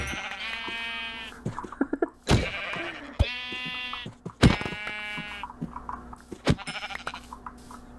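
Sheep in the Minecraft video game bleating repeatedly, several clear wavering calls spread across the clip, loud and close, with a few sharp clicks between them.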